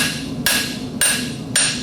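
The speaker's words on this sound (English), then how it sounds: "take the round side of the hammer, and like I was drawing a clip, I'm going to push material out of the center" A hammer's round side strikes metal three times in an even rhythm, each blow a sharp, close ringing impact that decays before the next, with no talking.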